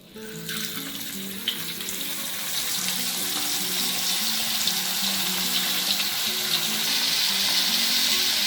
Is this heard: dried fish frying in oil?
yes